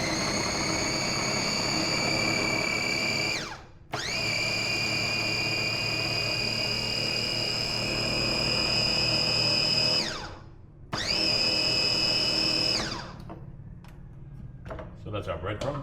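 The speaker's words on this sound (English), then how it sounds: "which I've got in a food processor or a blender or food chopper" A food processor whirs loudly in sustained bursts, chopping bread into breadcrumbs for fishing dough bait, stopping briefly twice between runs before winding down to quieter rattling.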